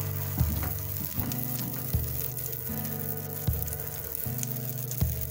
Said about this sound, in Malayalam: ചൂടായിട്ടുണ്ട്, നമുക്ക് ഇനി ബട്ടർ നല്ലോണം ഒന്ന് തൂകി കൊടുക്കാം.